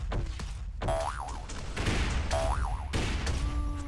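Health boost attack grenades launched in an SCL 2v2 teamplay match, a few sharp bursts each followed by a warbling, bouncy electronic tone, repeated in quick succession.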